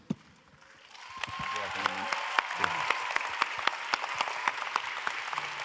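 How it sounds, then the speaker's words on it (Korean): A congregation at a pastors' ordination ceremony breaks into applause that builds after a brief quiet start, with distinct claps standing out from the crowd and faint voices underneath. "큰 박수로 다시 한번 환영하고요."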